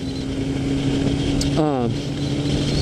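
A motorcycle engine drones steadily while lane splitting in traffic, with a brief rising horn-like tone or passing vehicle in the middle.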